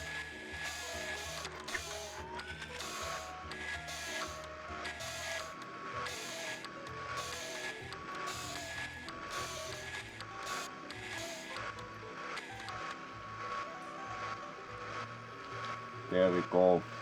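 A dough mixer running on turbo in the Bakery Simulator video game, a steady mechanical whir with regular rhythmic pulses that goes on for the whole stretch, with a voice heard over it.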